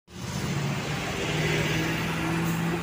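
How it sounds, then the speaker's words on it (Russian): Garbage trucks hauling away rubbish on a city street, a steady close engine drone that starts abruptly and holds at an even level, with a faint tonal whine and no talking. "Машинки вывозят мусор."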